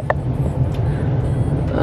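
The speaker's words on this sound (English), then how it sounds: "I'm gonna test drive the car around" A Mercedes-Benz A220 on a test drive, its engine and road noise a steady loud low hum heard from inside the cabin, with faint brief clicks over it.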